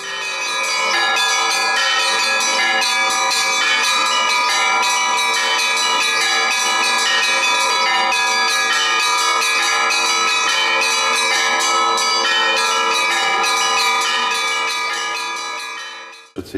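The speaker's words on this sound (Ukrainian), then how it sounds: "це є благовіст, який закликає нас на богослужіння, на літургію, на всенощну" A church bell peals for an Easter service, rapid repeated metallic strikes ringing steadily and loudly for over sixteen seconds, overlapping tones sustaining under each new hit, no voices.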